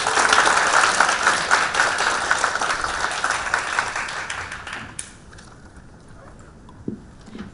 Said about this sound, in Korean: 여러분 큰 박수로 맞이해 주시길 바랍니다.